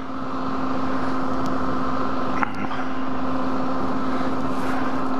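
Steady road noise from a vehicle riding down a road, a continuous broadband rumble with a constant low hum, loud and unbroken, with one brief knock partway through and no talking.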